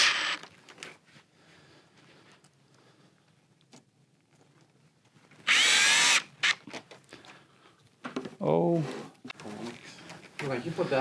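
A power drill drives screws into window insect screen fittings, one loud, close burst of whirring in the middle, with people talking before and after.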